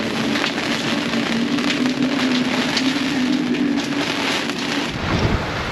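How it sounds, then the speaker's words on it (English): Heavy rain pours down on a 27-foot sailboat at night during a storm off New Zealand, a loud steady dense hiss of drops drumming on surfaces with no voices. "It's nighttime, the rain's definitely here to stay."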